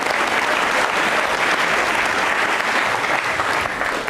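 Steady, dense studio audience applause on a televised quiz show, loud and continuous for the whole span with no talking over it.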